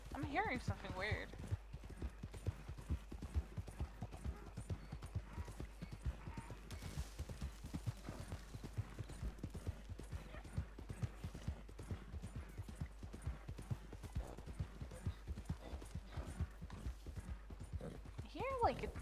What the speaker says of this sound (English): I hear like a donkey